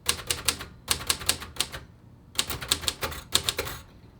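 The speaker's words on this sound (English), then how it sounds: "I'm still not the best at like typing on these, but this has a pretty good snappy action." Keys clatter on a 1950s Royal Quiet Deluxe manual typewriter, delivering crisp, snappy strikes in quick bursts separated by a short pause, close and clear with no talking.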